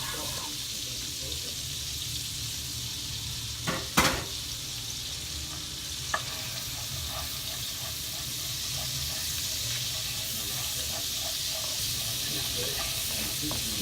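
Chopped garlic sizzles steadily in a hot pan alongside seared salmon, a continuous close frying hiss with a couple of sharp clacks of a utensil near the start and faint scattered crackles throughout.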